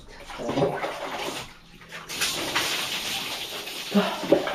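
Cold water is poured over a person bathing, splashing dumps and streams of water with a rushing wash in between, close by, and a voice briefly heard.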